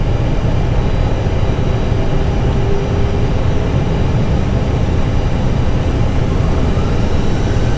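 Airbus A320 jet on its takeoff roll from runway 27 at Denpasar, Bali, a loud, steady engine roar filling the cabin for the whole stretch with no break.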